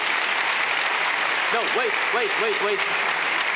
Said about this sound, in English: Okay, a big applause, and I will start.